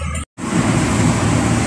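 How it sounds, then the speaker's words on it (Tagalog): Steady roar of road traffic passing close by, loud and continuous after a brief cut near the start, with no voices. "Traffic situation."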